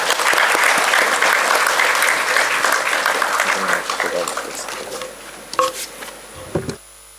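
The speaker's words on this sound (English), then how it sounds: "Can you please have a big round of applause for sir?" A large audience claps loudly in a formal welcome ceremony at an institute event, the broad applause holding steady for about five seconds before thinning into a few last claps and falling silent.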